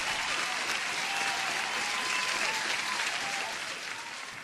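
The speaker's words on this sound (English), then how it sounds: "I'm not sure if you guys can hear the applause" Dense, sustained applause from a large audience, even and broadband, fading slightly toward the end with no talking.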